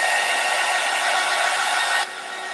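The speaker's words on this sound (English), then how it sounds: "So let's hit that with the heat gun." A heat gun blows steadily at close range over sealant brushed onto a paper craft, a continuous airy whoosh that drops slightly in level near the end, with no talking.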